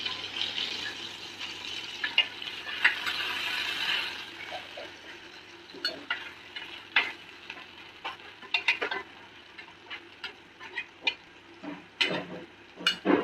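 Alfaham chicken pieces turned over in a hot pan after being covered, a low sizzle under irregular bursts of scraping and clattering as the meat is flipped, close and unaccompanied by speech.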